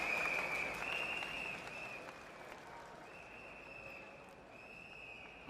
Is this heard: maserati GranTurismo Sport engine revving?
no